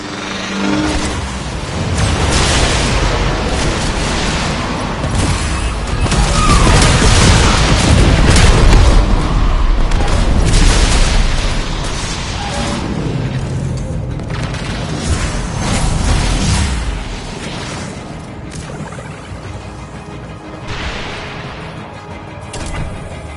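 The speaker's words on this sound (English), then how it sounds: "reactor has detonated" A reactor detonates in the Warframe Railjack space battle, a loud, booming blast that swells into a long rumbling roar with crashing debris before slowly fading, with no voices.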